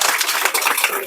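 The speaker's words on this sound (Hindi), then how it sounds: "ताली बजाओ ना" A classroom of tenth-grade students claps together after a chemistry lesson, a dense, steady burst of many hands at close range filling the whole moment without any talk.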